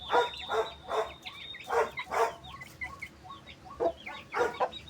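Repeated clucks and squawks in bursts from a weak, sick Aseel hen with ticks, fairly close, with a thin high tone running through the background.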